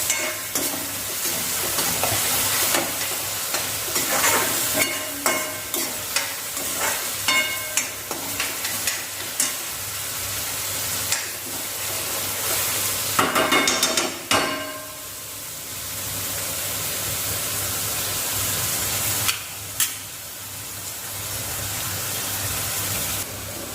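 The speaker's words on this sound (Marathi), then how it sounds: "तांबूस कांदा पण होईपर्यंत कांदा परतून घ्यायचा" Onions sautéing in a pan for a chicken leg piece gravy, with a steady sizzle and repeated scraping stirs. The stirs come in a loose rhythm, loud and close, with no talk.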